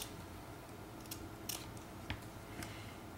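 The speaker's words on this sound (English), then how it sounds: "just take the ends and clip these. You can use any kind of scissors that you want" Scissors snip the ends off paper tags in a few sharp, faint clicks spaced about half a second apart, heard alone over a quiet room hiss.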